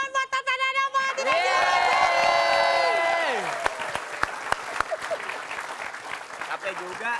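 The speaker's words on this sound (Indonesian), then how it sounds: "Silakan tepuk tangan buat Tata dan Ama" An Indonesian TV studio audience applauds Tata and Ama with a strong burst of clapping and cheering alongside a loud sustained tone that cuts off, then the clapping thins into scattered claps.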